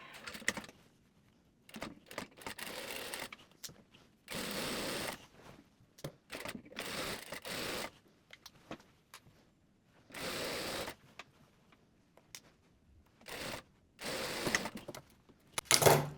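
A sewing machine stitches a zipper into a mermaid dress, running in short bursts of steady whirring separated by pauses, close and fairly quiet, with no talking.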